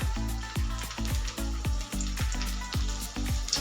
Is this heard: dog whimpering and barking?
no